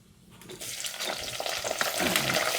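Onions and tomatoes frying in oil for a leafy greens curry, a steady close sizzle that grows louder, with stirring scrapes and a brief watery splash.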